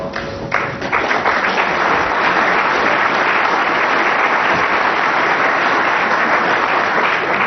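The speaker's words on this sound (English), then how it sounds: "a very deserved round of applause for an excellent safety shot there from Ali Carter" Snooker spectators at the 2012 World Championship applaud a safety shot by Ali Carter, a dense, sustained round of clapping from the arena crowd that holds steady throughout.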